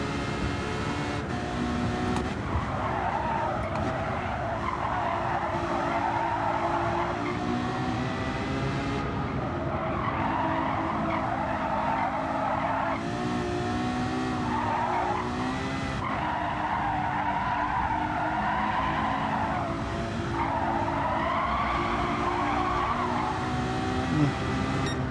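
Gran Turismo 7 race car sliding and skidding downhill, a steady loud engine drone with repeated tire squeal swells and screeches running throughout, no voices.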